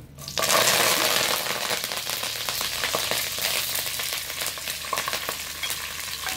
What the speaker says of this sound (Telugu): ఈ మాత్రం ఆయిల్ హీట్ అయింది. సో దినుసులు అయితే ఇవన్నీ వేసేసుకుందాము.